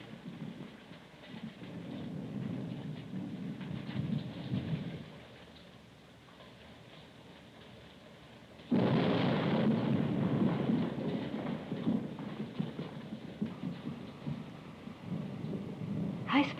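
Heavy rain pours steadily with low rumbling, suggesting thunder, easing to a quieter patter for a few seconds before a loud surge of downpour and rumble returns and continues.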